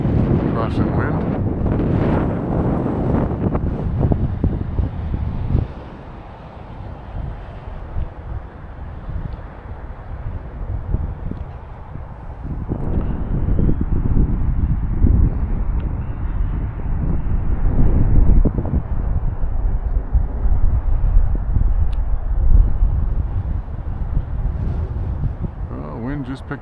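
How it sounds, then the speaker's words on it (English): Strong gusty wind buffets the microphone at an outdoor flying field where a UMX Air Tractor model plane is flown, loud rumbling bursts rising and easing over the stretch, with a voice talking at times. "Wind just picked up a little bit more."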